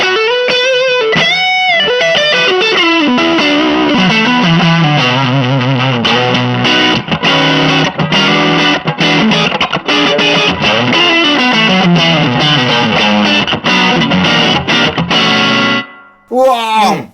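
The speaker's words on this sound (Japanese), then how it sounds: "エフェクターのがっつり歪んでるっていう、心もワクワクさせてくれるような歪みですよね。" An electric guitar played through several distortion effect pedals combined on a pedalboard gives a loud, heavily saturated stream of sustained chords and sliding notes, ending abruptly near the close.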